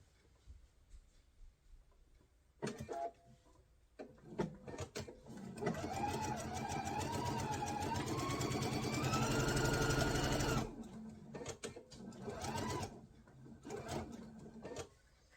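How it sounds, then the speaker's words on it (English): A sewing machine stitches a straight quarter-inch seam down a nine-patch quilt block, whirring in a steady sustained run of about five seconds amid shorter start-stop bursts, close and alone without talk. "We're going to sew 1/4 of an inch from the very top to the very bottom, keeping it nice and straight as we go."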